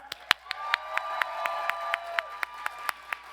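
Audience applause at a WonderCon panel for The Spiderwick Chronicles, with sharp, evenly spaced claps standing out over a softer spread of hands, plus a faint sustained tone underneath.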